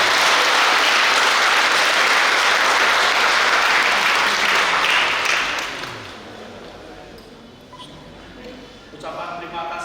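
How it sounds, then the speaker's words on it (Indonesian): Congregation applause at the dedication of a new church building in Rantau Prapat: loud, dense clapping from a large crowd that lasts about six seconds, then fades out, followed by quieter room sound and a voice starting up. "Inilah Ibu Oilinio, mari kita beri tepuk tangan kepada dia."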